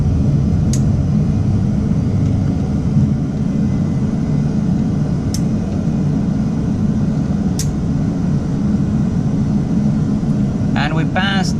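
Airbus A320 jet engines climb in a flight simulator, giving a steady, loud low drone throughout, broken by a few sharp clicks and a brief chirping flutter near the end.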